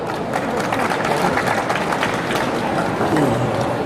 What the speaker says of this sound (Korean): 큰 박수로 환영해 주시죠